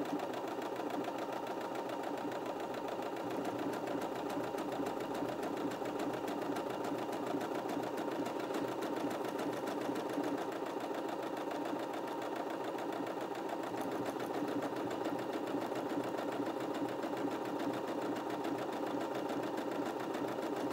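A Brother Innov-is 15 sewing machine sews a buttonhole with a steady, soft mechanical whirr that runs evenly throughout, heard at a distance with no talk.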